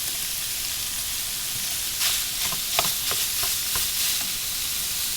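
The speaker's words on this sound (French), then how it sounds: "Je viens rajouter mes 600 g de viande hachée et je vais venir donc cuire." Six hundred grams of minced meat frying in a pan with softened garlic and shallot, a steady broadband sizzle with a few brief stirring scrapes in the middle, close and alone without talk.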